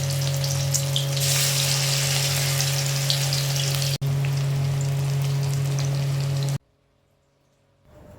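Fish roe fritters sizzle in hot oil, a steady close crackling hiss with a constant hum beneath, which cuts off abruptly near the end, leaving near silence.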